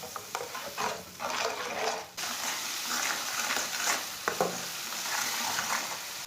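Spiced masala paste for potato masala sizzles steadily in a hot pan while a spoon scrapes and stirs through it in irregular strokes.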